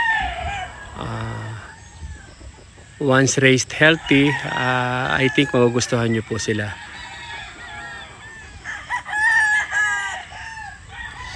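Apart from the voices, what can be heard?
chickens, rooster crowing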